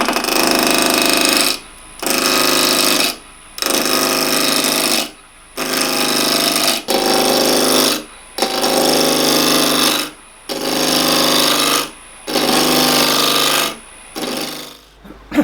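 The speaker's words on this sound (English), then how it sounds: "I thought initially I'd do some spindle turning" A wood lathe spindle-turns a thermo-ash glue-up, the gouge cutting in repeated loud bursts of about a second each, separated by short pauses, for a steady rhythmic series of roughs.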